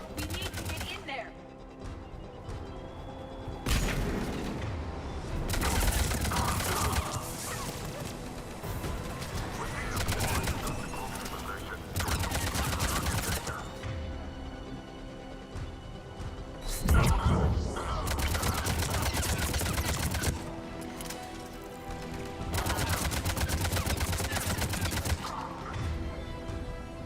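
Rapid gunfire rattles in bursts at a checkpoint battle in Mass Effect 3, loud volleys breaking off and resuming several times with brief lulls between them amid combat noise.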